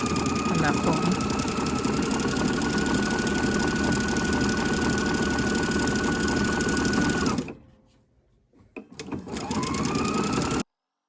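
A sewing machine stitches elastic onto homemade underwear, whirring loudly and continuously for about seven seconds, pausing briefly, then starting again for a short burst.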